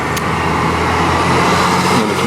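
At an uncontrolled intersection in Trapani, road traffic rumbles loud and near, with engines and tyre noise blending into a steady roar and a faint brief squeal near the end.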